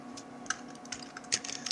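Computer keyboard keys clatter in quick irregular bursts while code is saved in a programming session, close and fairly quiet, with no voices.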